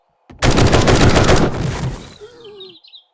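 A burst of rapid automatic AK rifle fire in the video game 7 Days To Die, loud and close, lasting about two seconds before ringing off into a short tail.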